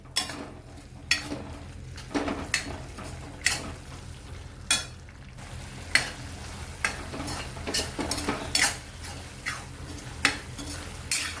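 Masala sautéed in a pan for a dry paneer chingari bhaji, a spoon scraping and stirring in repeated sharp clinks over a steady low sizzle, close and fairly loud, no talking.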